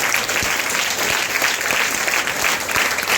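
An audience at a free NMMS coaching programme in Guntur claps for Lakshman Reddy, a dense burst of many hands applauding close by for a few seconds.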